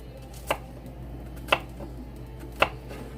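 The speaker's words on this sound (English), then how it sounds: "I'm just cutting it, kind of rough chopping it." A knife rough-chops an onion on a cutting board for roll-up lasagna, making three sharp, evenly spaced chops about a second apart over a low background hum.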